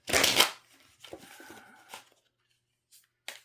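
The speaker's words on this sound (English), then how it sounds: "I'm going to shuffle the cards like I said" A loud riffle of tarot cards being shuffled opens the clip, followed by softer sliding and tapping of the deck, then quiet.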